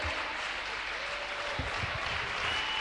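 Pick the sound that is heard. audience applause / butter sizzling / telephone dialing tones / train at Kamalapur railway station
audience applause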